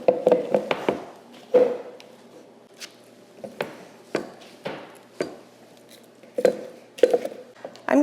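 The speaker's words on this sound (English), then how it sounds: "am just going to chop this down a little bit so I can get a little bit better idea of how much chives we're working with here" Knife chopping fresh-harvested chives on a cutting board, a run of sharp, irregular knocks and taps, fairly close, with brief pauses between bursts and no talk.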